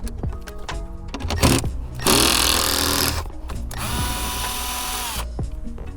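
A socket tool removes 10mm bolts inside a Toyota during an amplifier install, with bursts of close mechanical whirring and clicking between short pauses.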